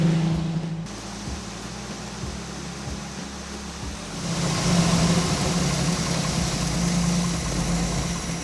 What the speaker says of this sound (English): Seems kind of like a high idle.